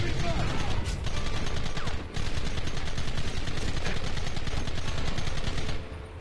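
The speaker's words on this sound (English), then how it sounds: "you have to use the Gatling gun" Rapid, sustained Gatling gun fire in Red Dead Redemption, mowing down a gang coming over a hill, a loud continuous rattling burst with only brief gaps.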